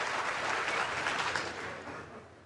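Applause from the snooker crowd at the 2017 Shanghai Masters semi-final between Ronnie O'Sullivan and John Higgins, a dense burst of clapping that slowly fades.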